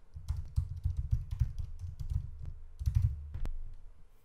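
Someone types a domain name on a computer keyboard, a close run of quick, uneven key clicks in short bursts with brief pauses, ending in a sharper single keystroke.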